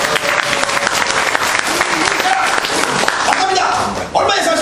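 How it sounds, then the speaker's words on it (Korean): Studio audience applause on a Korean antiques appraisal show, a dense, steady clatter of many hands that fills the space from start to finish, with voices briefly audible over it near the end. "박수 한번 주세요."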